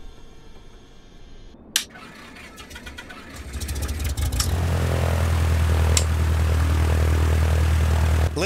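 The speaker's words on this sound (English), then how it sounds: "Listen to that engine. Sounds amazing." A Cessna 152 engine starts up in Microsoft Flight Simulator 2020: a click and brief cranking, then the propeller engine catches and settles into a steady, loud idle drone.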